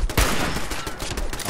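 Automatic turret gunfire in the Fallout 4 video game, a dense, loud barrage of rapid shots running through the whole stretch with no pauses.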